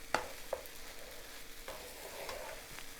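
Eggs with tomatoes and onions cook in a pan over medium heat, giving a quiet, steady sizzle broken by a few sharp scrapes and clicks of a utensil stirring.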